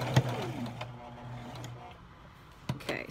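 A sewing machine stitching embroidery onto a blanket, a brief steady mechanical whir with faint ticking, close by, fading down before a couple of handling clicks near the end.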